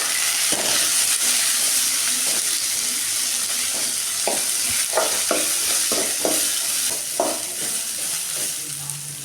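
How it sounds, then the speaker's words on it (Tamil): Beans sauté in oil in a pan, giving a loud, steady sizzle with the dull knocks of a spoon stirring at intervals, close up and without speech. "இதை ஆயிலே போட்டு நல்லா கொஞ்சம் ரெண்டு நிமிஷம் மாதிரி நல்லா வதக்கிக்கலாம்"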